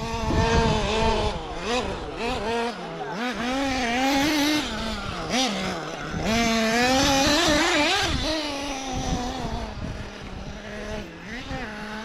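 A small radio-controlled Stadium Truck STX races around a track, its electric motor whining loudly and rising and falling in pitch as it speeds up and slows through turns, with steady wind noise on the microphone.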